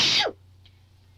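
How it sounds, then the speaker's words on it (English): A single sharp sneeze bursts out in the Torchy the Battery Boy puppet cartoon, a short loud burst that falls off quickly into near silence. "and then they heard somebody sneeze."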